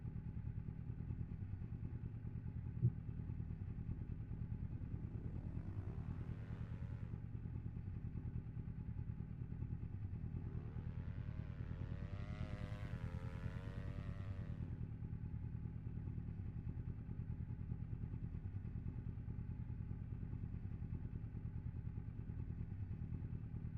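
Race car engines in the Assetto Corsa racing game, two rising and falling high revving whines sweeping past over a constant low electronic drone, moderately faint.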